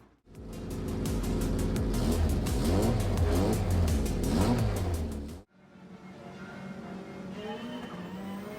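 Tom's Castrol Toyota Supra GT500 race car in Gran Turismo 7, its engine roaring loud and steady at high revs for about five seconds, then cutting out abruptly before a quieter, more distant engine drone with faint squeals resumes.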